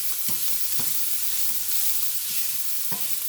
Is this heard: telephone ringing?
no